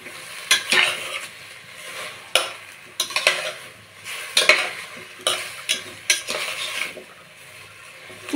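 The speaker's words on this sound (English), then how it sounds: "Now I'm going to add the 3G paste, that is ginger, garlic and green chili paste. This also I'm going to just mix it up together." Ginger, garlic and green chili paste stirred in a pan for a Bengali rohu fish curry, giving a soft sizzle broken by repeated sharp scrapes and clinks of a spoon against the metal, close and fairly quiet.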